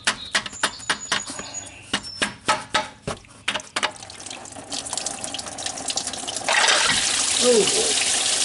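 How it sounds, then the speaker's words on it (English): Antifreeze leaking from a Dodge Nitro engine, first heard under a series of close knocks and clatter, then becoming a steady hissing, splashing stream of liquid pouring out. "It starts to leak antifreeze."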